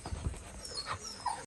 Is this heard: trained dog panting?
yes